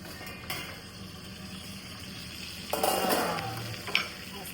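Black fish (kala masa) frying in a pan, Agri-style, with a steady low sizzle and a short burst of utensil clatter in the middle, then a single sharp clink near the end.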